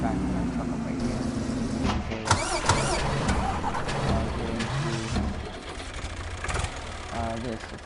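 Truck engine in Farming Simulator 15 rumbles and revs unevenly, rising and falling as the vehicle drives off, with someone talking throughout.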